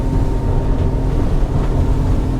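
A Jeanneau Merry Fisher 795 Sport motorboat making a hard turn at about 25 knots gives a steady, loud engine drone mixed with rushing water and wind noise, continuous throughout.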